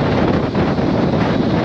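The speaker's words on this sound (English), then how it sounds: "It's very, very windy." Strong wind by ferries roars and buffets against the microphone in a constant, loud rush, with no voices.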